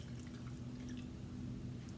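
Water pours steadily into a container with a lid, a continuous low wash of liquid running alone without pause.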